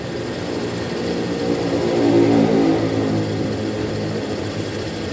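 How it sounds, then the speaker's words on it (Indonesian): A Toyota Kijang Krista engine runs steadily near the listener and its RPM climbs gently, the hum swelling a little toward the middle before settling back to a smooth, even drone. "Nah ini secara otomatis RPM akan bertambah naik."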